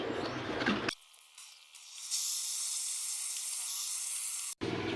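Fire burns over a mud-coated design outdoors, giving a steady airy hiss and crackle that swells after a quiet start, bracketed by brief louder background noise at both ends.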